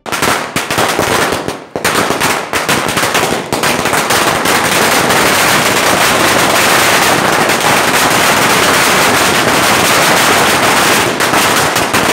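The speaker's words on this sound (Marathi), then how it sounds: "कार्यकर्त्यांनी फटाके वाजवून जल्लोष साजरा केला" Loud, dense strings of firecrackers bursting nonstop at a political celebration by party workers, a rapid crackling barrage that barely pauses for the whole stretch.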